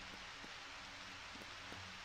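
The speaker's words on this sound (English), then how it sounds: "I got to take all the chickens inside because it's raining" Rain in the video game Harvest Moon Back to Nature falls as a faint, steady hiss with soft, evenly spaced patters, quiet and continuous with no voices.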